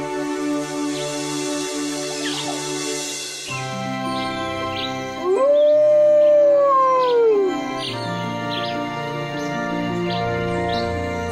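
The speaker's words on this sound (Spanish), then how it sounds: "Gracias, hermano Lobo, por haberlos llamado" Wolf howl in an animated religious children's program: a single loud, rising then falling sustained howl stands out mid-clip over a continuous musical background with chirping bird-like accents.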